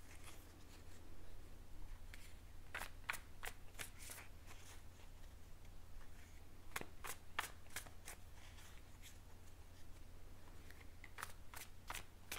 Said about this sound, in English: I'm going to give them another little shuffle while I connect to your energy